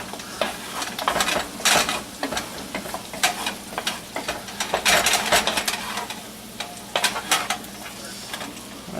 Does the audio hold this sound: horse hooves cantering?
no